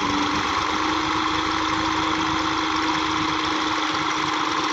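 Tractor engine straining hard to pull a stuck vehicle free, a loud, continuous mid-pitched diesel roar with steady knocking vibration, close and unbroken throughout.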